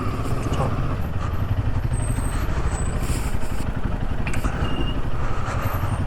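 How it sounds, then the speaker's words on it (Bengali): Motorcycle idling after a cold start in a hotel parking area, a loud close continuous engine rumble with a steady low throb, a voice talking over it. "আমার বাইকে কোল্ড স্টার্ট দেওয়া হয়ে গেছে, বেরোবো এবার"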